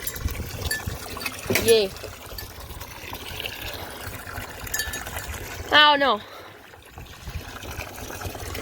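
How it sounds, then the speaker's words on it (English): Water runs steadily for cattle after ice has been broken, a continuous close rushing trickle that lasts throughout, with brief spoken remarks over it. "running water"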